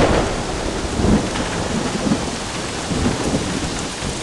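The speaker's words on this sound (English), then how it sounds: "An electrical storm must be nearby." Thunderstorm with heavy rain pouring steadily and low rolling thunder rumbling in repeated swells, loud and close, with no voices.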